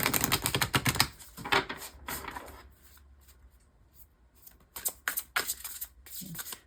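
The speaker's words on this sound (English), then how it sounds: "These aren't shuffling well." Tarot cards being shuffled in quick riffling bursts, close and crisp, with pauses of near silence between the shuffles.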